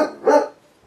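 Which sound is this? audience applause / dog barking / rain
dog barking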